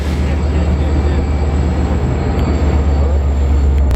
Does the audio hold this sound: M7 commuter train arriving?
yes